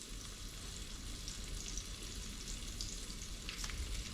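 Onions fry steadily in a pan in a Maltese home kitchen, a dense, even sizzle and crackle that holds at one level throughout with no voices.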